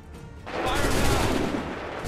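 A musket volley in Assassin's Creed 3, a dense burst of many shots fired together that swells into a loud, rolling crackle and lasts about a second and a half before fading.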